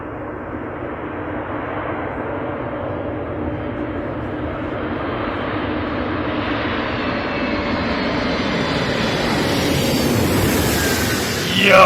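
The Soviet Buran transporter aircraft passes overhead, its engines a huge, broad roar that swells steadily louder as it approaches, with a rising jet whine near the end, alone and dominant.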